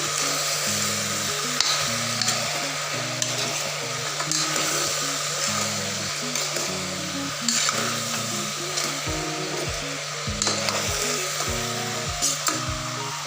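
Mixed vegetables for khatkhate, salted, are stirred in a hot pan, a steady sizzle with scraping of the spoon against the metal and rhythmic clinks, all under background music, with no talk.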